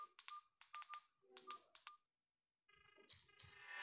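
A second mobile phone dials a number, sending a quick series of short keypad tones, then a brief silence before a louder, bright tone sequence begins on the phone, all close and without any talking.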